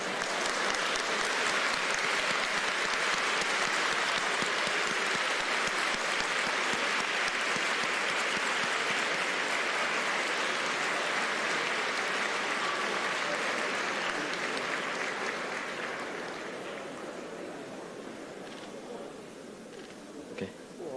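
A banquet crowd at the American Chamber of Commerce in Taiwan's 2023 Hsieh Nien Fan dinner gives President Tsai Ing-wen a long, loud round of applause that holds steady and then fades away toward the end.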